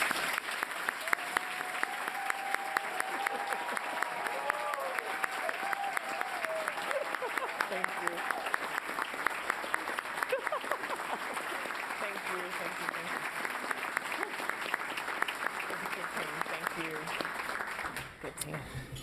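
Sustained audience applause welcoming Columbus City Schools Superintendent Talisa Dixon, steady moderately distant clapping from a large crowd that holds evenly for about eighteen seconds before cutting off.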